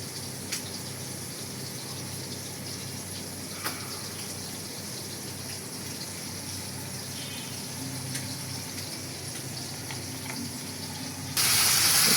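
Fish frying in hot oil with mustard paste, garlic paste, turmeric, chili and cumin powder, a steady broadband hiss and sizzle running throughout, with a few faint clicks and a louder burst of spitting near the end.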